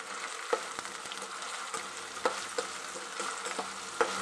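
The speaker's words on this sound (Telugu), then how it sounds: "అలాగే ఉల్లిపాయ ముక్కలు, బాగా ఫ్రై చేసుకుందాము." Onion pieces fry in a pan with a steady low sizzle and occasional scraping taps from stirring, close and moderately quiet, with no voices.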